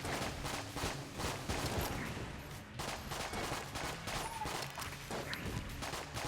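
Rapid, steady gunfire from a weapon in the dungeon shooter Enter the Gungeon, a dense string of sharp shots with faint crashes and clatter mixed in, close and continuous.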